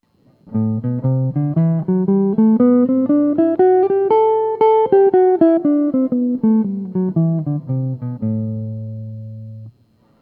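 A guitar plays a Dorian mode scale for jazz, one clean note at a time, climbing step by step and then descending, before ending on a sustained ringing tone.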